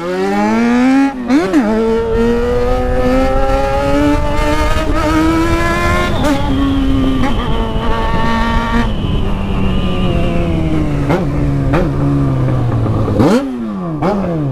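A Yamaha XJ6 motorcycle with a loud aftermarket exhaust revs up close, its pitch climbing, holding and dropping in repeated surges with sharp blips between the longer revs.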